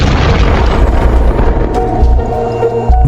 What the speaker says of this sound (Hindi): अंतिम मंत्र का उच्चारण करते ही एक तेज विस्फोट हुआ